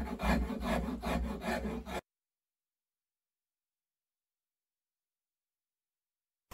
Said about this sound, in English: my great big farrier's rasp, which is a wonderful thing for getting a lot of wood off the neck in a hurry